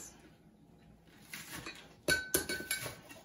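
A kitchen knife chops scallions into short pieces on a cutting board, a few crisp close knocks clustered together after a quiet stretch of faint room noise, fairly soft overall.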